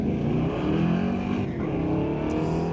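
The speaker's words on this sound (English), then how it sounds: "Walter Johnson will take up the Chevelle to race against Sean Langley in that Mustang" A Chevelle and a Mustang drag race down the strip at an ET series event, a loud roaring engine drone that holds steady then shifts pitch midway, heard without talk.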